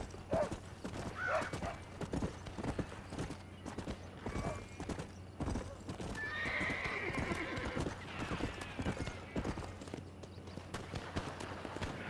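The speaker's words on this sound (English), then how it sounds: "even though your horse is right there" Horse hooves clip-clop steadily in Red Dead Redemption in the town of Armadillo, with a horse neighing and whinnying over them and faint speech now and then.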